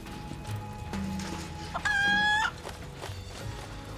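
A chicken in the video game Final Fantasy 7 Rebirth gives a loud, clear squawk-like call lasting about half a second, with fainter clucks and ambient game sounds before and after it.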